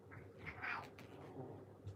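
A kitten gives a single faint meow in a quiet room, short and high, over low background noise.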